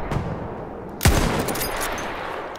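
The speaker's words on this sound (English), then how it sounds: "Mitrailleuse ennemie!" Machine-gun fire in Battlefield 1 bursts out with one sharp loud crack followed by a dense rattling fusillade that carries on steadily under the game's background noise.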